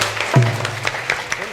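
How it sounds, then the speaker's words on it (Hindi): At a stage play, audience members scattered in the room give a few loud, sparse claps, with a low hum underneath. "सारे पति लोग सब मिलके बजा दो ताली"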